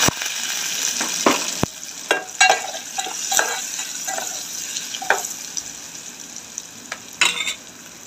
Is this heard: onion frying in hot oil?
yes